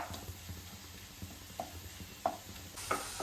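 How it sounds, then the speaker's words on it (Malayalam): Crushed ginger, garlic and green chili sautéing in a pan give a soft, steady sizzle, with a few light scrapes from stirring; quiet and close, no talk. "ഇതിനകത്ത് ഇഞ്ചി, വെളുത്തുള്ളി, പച്ചമുളക് ചതച്ചത് ഒന്ന് വഴറ്റിയെടുക്കണം."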